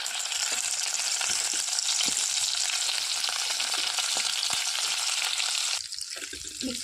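Stuffed brinjals frying in oil with cumin inside a pressure cooker, a loud continuous sizzle with light stirring scrapes, dropping quieter near the end.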